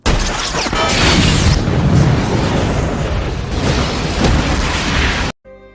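A loud, close explosion roars and rumbles for several seconds before cutting off abruptly into near silence.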